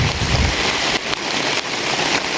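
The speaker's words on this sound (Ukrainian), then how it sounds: "Ось таке у нас небо, ось такий у нас дощик." Steady rain falling outdoors on a grey morning, a dense, even hiss with faint pattering, loud and close, no voices.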